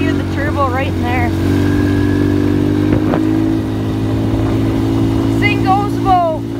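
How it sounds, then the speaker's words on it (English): A turbocharged 90cc motorbike runs with a steady buzzing engine drone and brief rising whistly chirps over it, and voices can be heard over the engine. "you can hear the turbo right in there"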